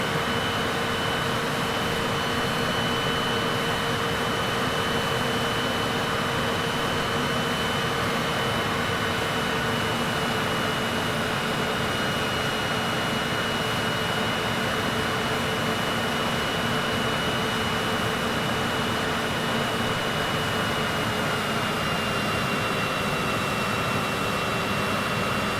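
Jet airliner engines in Microsoft Flight Simulator drone at a steady, dense roar with a faint high whine, continuous and unbroken throughout while the aircraft approaches Svalbard.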